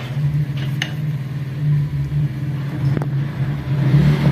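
Honda motorcycle engine idling steadily after a kick starter repair, a loud, close, even low thrum with a slight rise toward the end and a couple of faint clicks.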